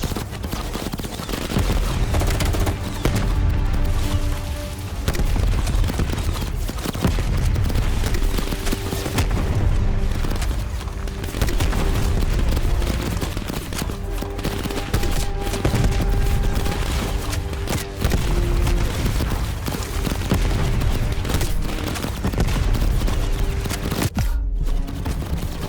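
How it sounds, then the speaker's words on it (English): Heavy gunfire from many enemies in Call of Duty: Black Ops Cold War pours in nonstop, dense overlapping automatic fire and booms, loud and close throughout with no speech. "like so much people shooting me at once"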